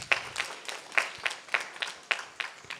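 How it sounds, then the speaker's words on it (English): A small audience at a temple cultural program concert claps in a thin, evenly paced rhythm, a few pairs of hands audible close by, fairly soft and without cheering. "Please give them a round of applause."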